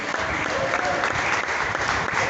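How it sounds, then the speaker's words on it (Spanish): A church congregation bursts into strong, sustained applause during a worship service, a steady dense clatter of many hands filling the room with no break. "Con un fuerte aplauso y gloria a Dios"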